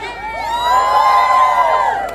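Crowd at a Yenepoya University 3k/5k run event cheering loudly, a sustained swell of shouts and high whoops that rises and holds for about two seconds.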